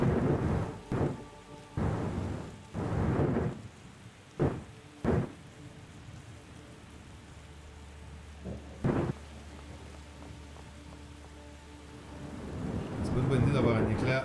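Thunder from lightning in The Gardens Between puzzle game, heard as repeated loud booming cracks in quick bursts, then a lone later crack over a low rumble, with faint talk near the end.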